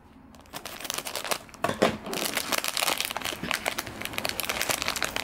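Crinkly plastic wrappers of Yo-kai Medal Gum 2 packs being snipped and torn open with scissors, a steady run of close, dry crackling and crumpling bursts with no talking.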